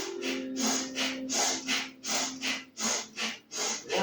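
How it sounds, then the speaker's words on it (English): Strong, forceful breaths pushed out through the nose during an energising yoga flow, a steady series of about a dozen sharp exhalations in a rhythmic pattern, close and alone with no talking. "Really make like a strong breath, almost like you're trying to blow your nose."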